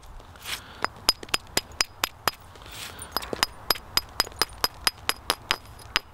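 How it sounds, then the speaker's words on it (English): Sharp stone-on-stone clicks ring out steadily as the edge of a basalt butchering knife is trimmed by flintknapping, about twenty short, crisp strikes spaced evenly and close by, with no talking. "I just want short, steep flakes working into that edge."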